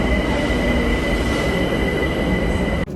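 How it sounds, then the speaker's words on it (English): A London Underground train heading toward Barking roars loudly and steadily, with a continuous rumble and high squealing wheel tones, then cuts off abruptly near the end. "We're getting on the underground towards Barking"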